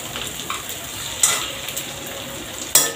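Stuffed capsicum fries in a pan and gets flipped over, with a steady close sizzle broken by a few sharp utensil clinks against the pan.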